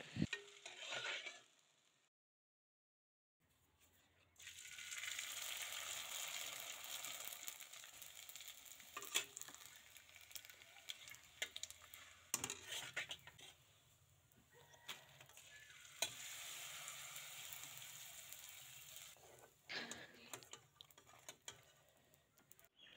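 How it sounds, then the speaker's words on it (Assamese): Homemade rice flour papads, made with lemon leaf and jackfruit leaf, are fried one at a time in oil, giving soft, quiet sizzling in uneven bursts with scrapes and taps, broken by a silent gap near the start. "আৰু এতিয়া মই এখন এখনকৈ এনেদৰে ভাজিম।"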